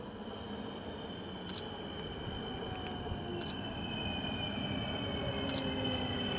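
A train rolls through Bełchów railway station in Poland while the station is being rebuilt. A steady rumble of wheels on rails runs under high, sustained wheel squeal, with a few sharp metallic clicks and no speech.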